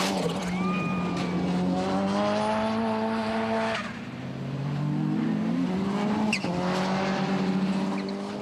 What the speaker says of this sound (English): as Lawrence Gibson proves as he gets the 6R4 airborne